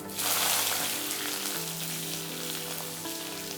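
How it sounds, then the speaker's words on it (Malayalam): Mustard seeds spluttering and popping in hot oil on a home kitchen stove while making a coconut beef curry, a dense, steady crackle of rain-like pops heard alone at close range. "കടുക് പൊട്ടി വരുമ്പോൾ നമുക്ക് കറിവേപ്പില ഇട്ട് കൊടുക്കാം"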